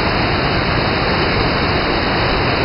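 A small summer waterfall at the Ohiopyle natural rock slides, heard as a steady, dense, close rushing hiss of falling water with no other sounds.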